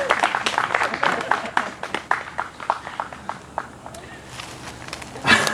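Applause from a small crowd at a live performance at Sweet Wreath in Irondale, Alabama, with scattered sharp claps fading over several seconds, then a brief louder burst near the end, mixed with murmured voices.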